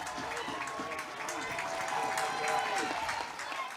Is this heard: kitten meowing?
no